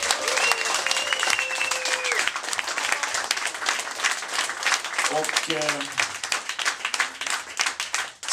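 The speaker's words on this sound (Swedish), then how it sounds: "Alla ska ha en jättestor någon applåd." Audience applause at a Swedish afternoon community event: sustained clapping from a crowd, with a voice talking over it early and a short tonal whistle or cheer partway through, fading slightly toward the end.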